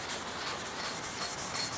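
Wax and grease remover being wiped by hand over the painted body of a 1973 TC125 motorcycle before filler work, a steady soft rubbing and scrubbing that runs continuously and fairly close with no voices.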